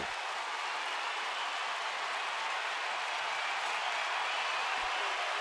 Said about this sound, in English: Now this crowd making a little more noise on this Friday night